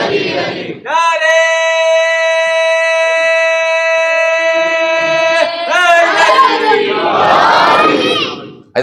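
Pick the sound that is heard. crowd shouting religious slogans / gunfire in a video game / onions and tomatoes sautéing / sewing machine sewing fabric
crowd shouting religious slogans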